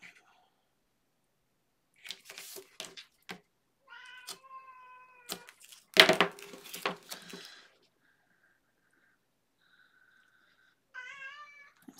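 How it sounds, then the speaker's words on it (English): A whiny cat meows repeatedly indoors during a paper craft session, drawn-out cries spread through quiet stretches along with scattered handling clicks and rustles. "the cat is incredibly whiny today."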